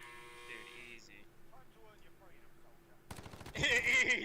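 Gunfire in the mobile shooter Warzone Mobile: after a quiet stretch with a faint voice and background hum, a loud rapid burst of automatic fire breaks in near the end, dense and sustained over the last second.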